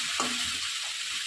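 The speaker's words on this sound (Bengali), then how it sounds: "লবণ হলুদ মেখে আর শুকনো লঙ্কা গুঁড়ো মেখে সঙ্গে একটু তেল দিয়ে সমস্ত কিছু দিয়ে ভাজি বসিয়ে দিয়েছি" Pangas fish coated in salt, turmeric and chilli powder sizzles steadily in hot oil, a constant hiss with a faint clink of utensils near the start.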